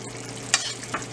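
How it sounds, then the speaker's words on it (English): Sugar syrup bubbles in a pan for methi khurma, a steady close simmering hiss broken by two short louder splashes or stirring scrapes. "So sugar started boiling"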